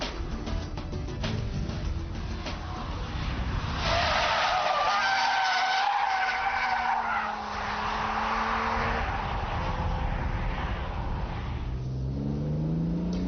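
A BMW Z3 M Roadster drifting, its tires skidding and squealing in long sustained slides while the engine revs and strains underneath, loud and close throughout.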